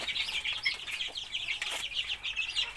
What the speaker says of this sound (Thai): นี่ก็เป็นลูกไก่นะครับ